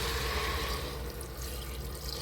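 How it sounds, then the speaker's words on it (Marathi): A steady stream of water splashes continuously into a pot of spiced masale bhat rice, close by, with no pauses or voices. "आता याच्यामध्ये मोठे 3 तांबे घेतले आहेत पाण्याचे, मीडियम मधले। आता हे याच्यामध्ये ओतून घ्या।"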